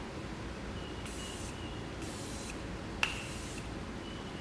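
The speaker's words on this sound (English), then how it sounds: "I'm gonna spray my Morphe spray on" Three quick hissing bursts from a Morphe makeup setting spray bottle, spaced about a second apart, close and soft over faint background noise.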